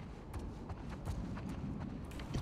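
Horses trotting in The Last of Us 2, a steady run of hoof clip-clops at a moderate pace, fairly close and clear over a soft ambient background.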